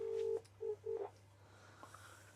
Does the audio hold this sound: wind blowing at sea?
no